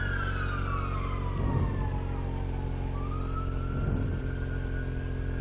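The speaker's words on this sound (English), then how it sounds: "Sirens for some reason going past us." Wailing sirens rise and fall as emergency vehicles pass nearby during a women's road cycling race stage, their pitch sweeping over a steady rumble of engine and road noise.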